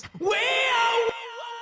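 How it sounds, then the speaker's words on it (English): A sung vocal phrase is followed by a ping-pong delay of filtered eighth-note echoes bouncing back, the delayed repeats trailing off quietly after the voice stops. "This is waves delay on the ping pong setting, doing 8th notes with filtering on."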